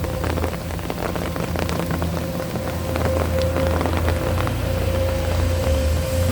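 Rain pouring steadily at a muddy excavator work site where a Sany SY200C and a Komatsu PC210-10MO dig, a dense drumming patter on surfaces with a low machine rumble underneath.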